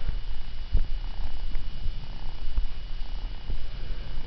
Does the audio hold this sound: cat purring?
yes